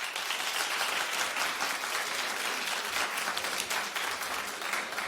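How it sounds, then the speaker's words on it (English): A television talk-show studio audience bursts into steady, dense applause that holds evenly loud for several seconds with almost no talking. "Clap if you would tell your girlfriend if you didn't like her boyfriend"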